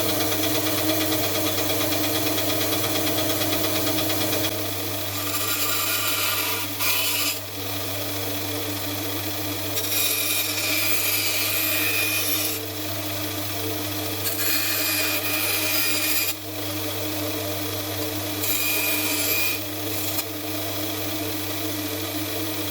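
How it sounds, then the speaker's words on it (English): A bandsaw grinds through material in several rasping passes, with a steady motor hum underneath and brief pauses between cuts. "So my thinking is do it on the bandsaw."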